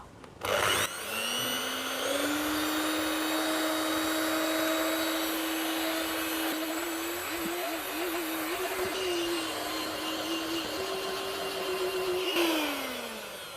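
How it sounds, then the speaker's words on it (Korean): A handheld electric mixer whips five room-temperature eggs with a cup of sugar for a sweet potato cake batter, a loud, steady motor whine running unbroken for over ten seconds, its pitch shifting slightly as the beaters move. "핸드믹서로 휘핑해 주겠습니다."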